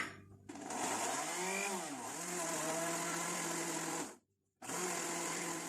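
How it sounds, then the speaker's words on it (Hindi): A blender motor purées strawberries in a steady, loud whir with shifting pitch as the fruit breaks down, cutting out briefly near the end before restarting. "स्ट्रॉबेरीज को ब्लेंड कर लिया है,"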